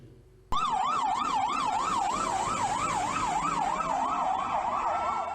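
A loud wailing fire engine siren cuts in abruptly and cycles up and down steadily, close by, with a vehicle engine rumbling underneath.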